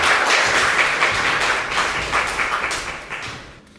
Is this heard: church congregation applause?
yes